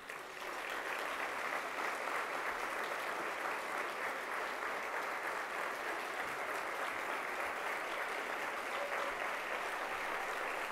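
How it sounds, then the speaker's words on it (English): A steady round of applause from a seated luncheon crowd for valedictorians' families, even and continuous from start to finish, moderately distant and with no speech. "please stand for a round of applause"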